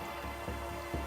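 Rain drips from leaves and bark, a few faint, soft drops landing against a quiet background over a very short stretch.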